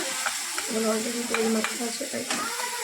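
Garlic paste and onion paste fry in a pan with a soft, steady sizzle, while a spoon scrapes and stirs in short repeated strokes close by.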